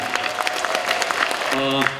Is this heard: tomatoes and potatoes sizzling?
no